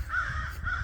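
A crow in a Florida backyard gives two harsh caws close by, the second cutting off sharply, with no other sounds around them.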